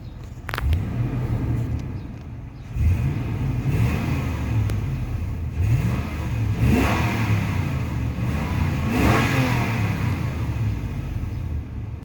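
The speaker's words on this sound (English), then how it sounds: "And we'll give it a few revs." A 2005 Toyota Tundra SR5's 2UZ-FE 4.7-liter V8 is revved several times in place, with repeated rising and falling rumbling pulls from the engine, each close and strong, separated by brief idle dips.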